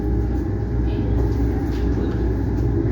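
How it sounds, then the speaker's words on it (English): Heating and cooling system humming inside a capsule of the Orlando Eye observation wheel, a steady low-pitched drone with a constant rumble filling the enclosed space. "they're heated and cooled, which is probably the noise you hear in the background"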